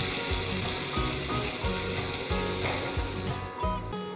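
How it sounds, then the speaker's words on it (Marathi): Chopped onion and curry leaves, with a pinch of asafoetida, sauté in a pan, giving a loud, steady sizzle and frying crackle throughout, with rhythmic low stirring or scraping thumps and no voices. "कढीपत्ता 10 ते 12 पानं आणि बारीक चिरलेला कांदा, आणि मस्त सोनेरी रंग येईपर्यंत कांद्याला परतून घेऊया."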